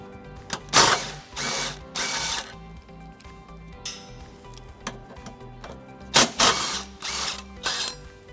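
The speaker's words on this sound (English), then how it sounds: "Using a 17mm socket, we're going to go ahead and remove these two bolts that are holding the tow hook in place." A ratchet with a 17mm socket loosening the tow hook bolts on a 2016 Lexus RX350 during trailer hitch installation: close, loud bursts of quick mechanical clicking in short runs with brief pauses between.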